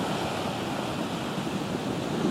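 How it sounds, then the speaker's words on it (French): Ocean swell rolling onto a mineral beach, a steady broadband roar of surf with wind noise, continuous and fairly loud throughout with no voices. "il y a une raison mécanique à ce que ce rythme de la houle, avec ses vagues plus ou moins importantes"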